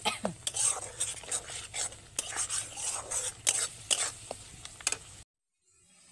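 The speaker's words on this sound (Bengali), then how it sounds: "এইবার হালকা আঁচে মশলাটা কষে নেব।" Spice paste being stirred and fried in a pan over low heat, with a utensil repeatedly scraping and knocking against the pan in an irregular rhythm over a soft sizzle, close and clear, ending in near silence.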